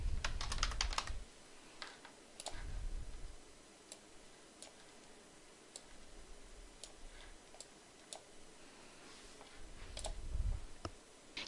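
Keys clatter on a computer keyboard in irregular bursts of typing, with clustered clicks at the start and scattered single taps afterward, close and fairly quiet over a faint background hum.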